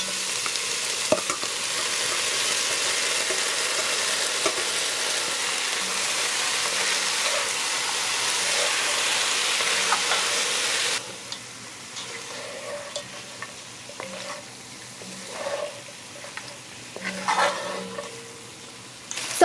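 Seasoned chicken feet sizzle and crackle loudly in hot oil for several seconds; the hiss then drops off, leaving quieter bubbling with scattered pops and stirring clatter.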